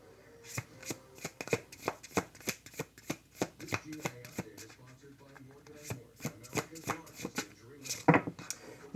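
A deck of stiff tarot cards being shuffled by hand, a steady run of crisp riffling slaps about twice a second, close and moderately loud, with a voice speaking quietly under it.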